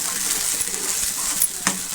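Steady, hissing sizzle of hot oil tempering throughout, with a brief sharper burst near the end as wet mustard greens (saag) hit the pan.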